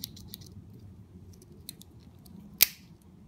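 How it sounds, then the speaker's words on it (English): Full-size scissors on a Victorinox Compact Swiss Army knife: a few faint clicks and handling taps, then one sharp, close snip near the end, with no voices. "And over here you have your full-size scissors."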